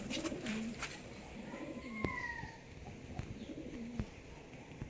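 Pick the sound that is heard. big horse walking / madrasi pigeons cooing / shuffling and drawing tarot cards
madrasi pigeons cooing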